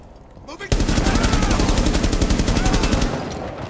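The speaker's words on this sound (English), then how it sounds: "They shot through walls." Automatic gunfire punches through walls in the Rainbow Six Siege video game during a hostage extraction round on the Vault map: a loud, sudden, rapid burst of shots that fades slightly toward the end.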